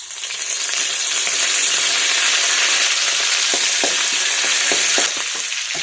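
Garlic, curry leaves and green chilies frying on full high heat in a pan, a loud steady sizzle throughout with a few clicks of stirring toward the end.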